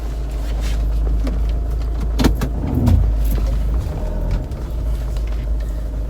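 Steady low rumble of a car's cabin while driving, heard from inside, with a couple of brief knocks and a slight swell in the drone midway.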